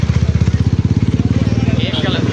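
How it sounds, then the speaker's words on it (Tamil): A Mahindra Mojo 300 motorcycle engine throbs loudly up close with a rapid, even pulsing beat as the throttle is worked, voices faintly audible in the background. "மோஜோ 300 அந்த வண்டி"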